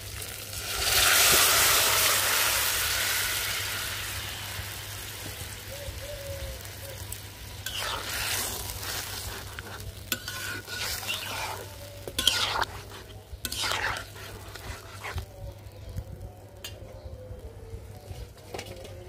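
Bottle gourd tipped into hot spiced masala, a loud sizzling burst at first that fades into a softer simmer, followed by repeated scraping and clinking of a spoon stirring in the pan.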